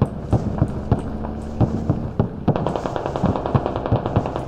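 Rapid bursts of automatic gunfire in the Squad video game crack out in quick rhythmic volleys, loud and close, with overlapping shots from more than one weapon.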